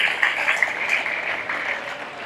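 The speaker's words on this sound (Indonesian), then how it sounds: "Tepuk tangan dulu." An audience at a civic launch event for an elderly people's space in Depok claps briefly, a short burst of scattered applause with a few louder claps near the start.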